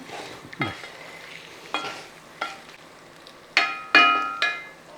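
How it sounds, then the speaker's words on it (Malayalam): Hog plum pickle being stirred in a pan, with several separate spoon strikes and scrapes over a faint background sizzle, close and sharp, each stroke ringing briefly. "ഇനി നമുക്കിതൊന്ന് ഇളക്കി കൊടുക്കാം"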